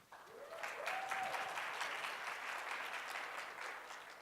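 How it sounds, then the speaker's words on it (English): An audience at a tech conference talk breaks into applause, a dense, even clatter of clapping hands holding steady throughout, fairly soft and at a moderate distance. "Give him a round of applause."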